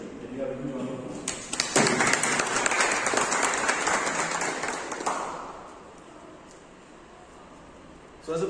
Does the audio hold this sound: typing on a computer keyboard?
no